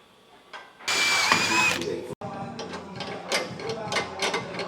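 A power drill bores holes in metal bracketry tacked onto a jig, with one loud burst of drilling followed by scraping and clattering workshop noise.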